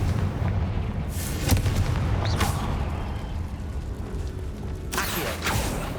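Confringo blasting spell going off in Hogwarts Legacy, a few sharp booming bursts with crackling debris over a constant dense rumble, loud and close with no talking.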